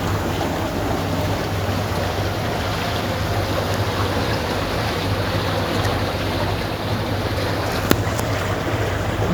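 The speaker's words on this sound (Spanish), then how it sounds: "Estamos navegando por el Nilo hacia la ciudad de Komombo." A boat cruising along the Nile in Egypt, with a steady, continuous rumble of engine and water wash under wind buffeting the microphone, one brief sharp click near the end.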